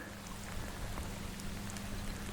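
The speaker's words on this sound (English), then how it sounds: "It is starting to rain" Light rain falls steadily outdoors at a lakeside point, a soft continuous patter with scattered drops tapping nearby surfaces and a low hum beneath.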